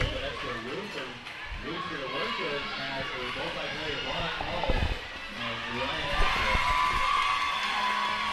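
A roller derby crowd cheers and roars in a sustained wash of noise, mostly under continuous play-by-play commentary, swelling louder toward the end.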